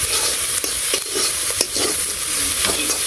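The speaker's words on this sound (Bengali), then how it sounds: "আর একটু তেল দিয়ে দিলাম, ভালো করে আর একটু ভাজি" Freshly caught village fish fry in a pan with extra oil added, a loud continuous sizzle punctuated by scraping stir strokes and soft clicks.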